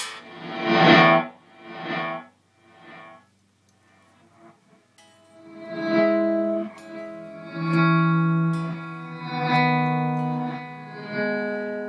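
Guitar notes played through the reverse reverb of an Eventide SPACE pedal, each one swelling up from silence to a peak before cutting off, followed by sustained, washy chords.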